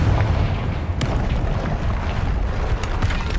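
Explosive Bombarda and Confringo spell blasts in the Hogwarts Legacy video game, a dense continuous rumble of booming impacts with sharp cracks near one second and again near the end, loud and close throughout.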